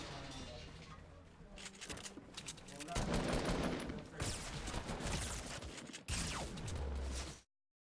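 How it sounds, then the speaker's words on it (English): Rapid SMG fire in a video game, long stuttering bursts of close shots in several loud stretches, with brief gaps and a sudden cutoff. "Alex Shulkin lasering Asen down with the SMG."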